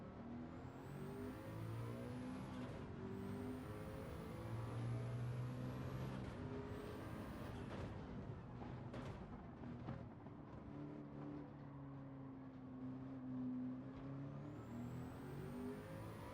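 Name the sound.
car engine under heavy throttle in video game Gran Turismo 7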